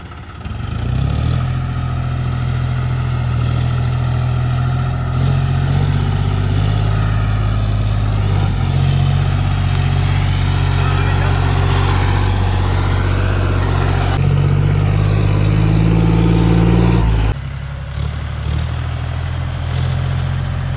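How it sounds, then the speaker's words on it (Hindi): A John Deere tractor engine labours steadily while hauling a fully loaded trolley of harvested paddy, around 80 quintals, a loud, continuous low drone held close for the full stretch with no talk. "अभी हम दिखाएंगे आपको जॉन डियर अपना कैसे जोर लगाता है"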